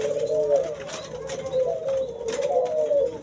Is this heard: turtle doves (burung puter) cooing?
yes